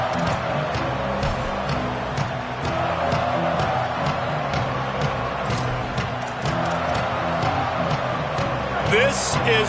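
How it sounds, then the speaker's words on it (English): A football stadium crowd roars steadily as a drive begins, a dense continuous wash of cheering and noise under a commentator talking throughout. "This crowd ready to make its presence known."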